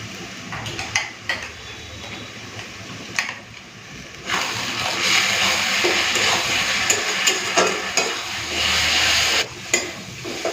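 Ginger, garlic and green chili paste sizzles in hot oil with well-browned fried onions for a mutton curry, a steady close frying hiss broken by spoon scrapes and clinks against the pan, with no talking.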